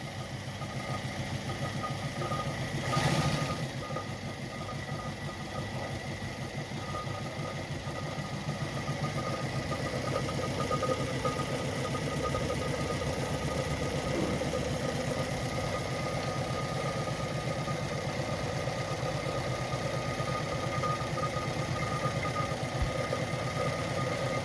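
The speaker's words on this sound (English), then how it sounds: "So once you hit the foot pedal, it actually winds the bobbin." A Lada 233 sewing machine winds a bobbin while its foot pedal is held down, giving a steady, even motor hum with a faint mechanical whir that runs unbroken for the whole stretch.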